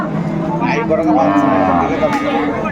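A cow moos loudly and up close at a Bangladeshi cattle market where cows are sold with calves, one long low call over a busy market background.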